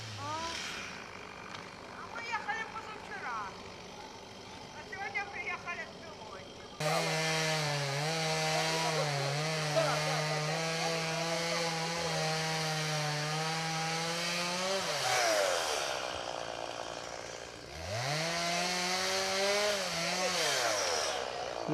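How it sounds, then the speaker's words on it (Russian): A chainsaw cuts through a fallen tree blocking a forest road, its engine droning loud and steady with pitch dips as the blade bites, after a few seconds of quieter activity with people talking. "Вот люди приехали, привезли пилу и теперь освобождают дорогу"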